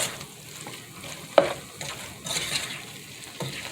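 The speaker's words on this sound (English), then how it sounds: "Add your pepper and stir that." A spoon stirs tomato soup with pepper in a pot, making soft scraping swirls over a faint simmering sizzle, with a sharp clink partway through.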